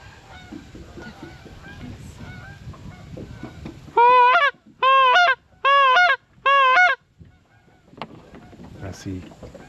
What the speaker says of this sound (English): I hear some geese coming.